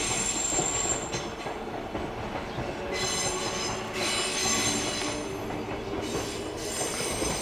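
A Kintetsu train rumbles past close by at a level crossing near Furuichi, wheels squealing and clattering over the rails, steady and loud throughout.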